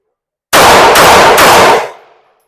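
Three rapid pistol shots in defensive shooting practice, about half a second apart, loud and close, merging into one burst that trails off in a short echoing decay.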